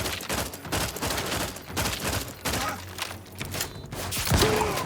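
Video game gunfire in The Outer Worlds 2, a rapid, dense burst of shots that keeps going in waves with brief gaps, loud and close.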